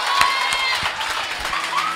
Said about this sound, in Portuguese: vamos aplaudir que isso aí foi forte mesmo